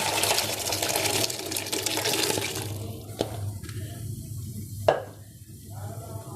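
Chickpeas and their water pour and splash into a pot for a few seconds, then stop, leaving a low hum, a couple of knocks and a sharp clunk.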